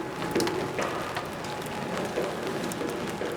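Light rain patters steadily on a large umbrella on a street in Fukuoka, Japan, a dense close drizzle of soft taps with a few slightly louder drops scattered throughout.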